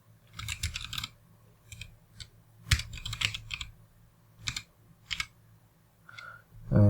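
Typing on a computer keyboard comes in irregular bursts of close clicking keystrokes with short pauses, fairly quiet, then a brief electronic tone at the end.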